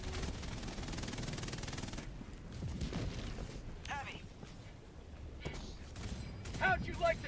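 Rifle gunfire in a shooter video game with stun rounds, sustained automatic bursts for about two seconds, then scattered shots and impacts with game sounds and voices over the rest.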